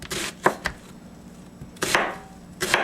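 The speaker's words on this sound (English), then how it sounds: "when you cut an onion the way I'm cutting it. Goes very fast." A knife chops through an onion on a cutting board in quick bursts of crisp cuts with brief pauses between, close and clear with no talking.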